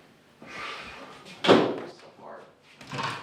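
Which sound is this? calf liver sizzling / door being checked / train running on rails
door being checked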